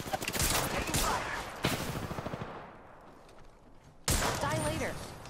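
Bursts of rapid gunfire in an Apex Legends ranked match, loud and close, with dense volleys in the first half, a brief lull, then another sharp burst; a voice speaks during the firing.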